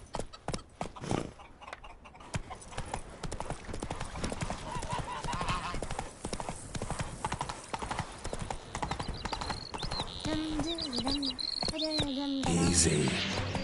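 Hooves of the video game horse Roach clop in a fast galloping rhythm, close and steady, with a brief whinny and bird chirps near the end.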